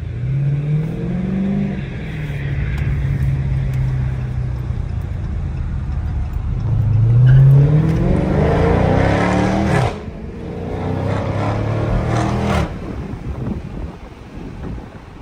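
A 2023 Dodge Challenger Scat Pack's engine rises and falls through a couple of strong revs under acceleration, loud and close over steady road and wind rumble, with no talking.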